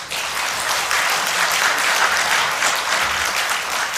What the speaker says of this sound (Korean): 우리 장익봉 목사님 박수 좀 하니